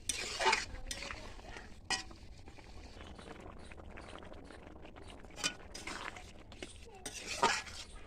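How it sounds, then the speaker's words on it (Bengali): Cauliflower, egg and potato curry being stirred after garam masala goes in, with a few sharp spoon scrapes and clinks against the pot amid quiet background noise. "গরম মশলা দিয়ে আমি মিশিয়ে নিলাম নেড়ে চেড়ে"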